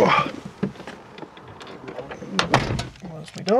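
A car door opens amid outdoor background noise, with a couple of sharper clunks and a voice speaking nearby.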